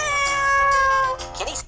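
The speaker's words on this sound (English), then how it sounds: "Meow. Your kitty cat," A house cat meows once in a long, drawn-out tonal call, close and clear, followed by a brief rougher sound at the end.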